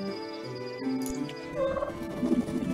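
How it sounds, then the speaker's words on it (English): Turkeys gobble in a video game: a couple of warbling calls, then a busier burst of gobbling, heard alone and fairly close with a faint game background. "Turkeys!"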